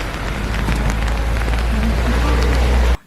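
Rain falls steadily in a dense, even patter with a low constant hum beneath it, then cuts off abruptly at the end.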